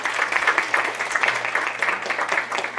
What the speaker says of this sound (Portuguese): Uma salva de palmas para a nossa produção.